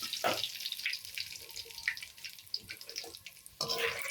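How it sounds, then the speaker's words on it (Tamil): Curry leaves sizzling in hot oil in a pan, a soft crackling fry with small pops and spits, fairly faint and steady, rising in a brighter burst near the end. "இப்போ கருவேப்பிலையை போட்டு பொரிச்சு எடுக்க போகிறோம்."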